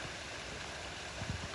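A natural stream flows with a faint, even wash of water, quiet and continuous over a short stretch, with a few soft low bumps toward the end.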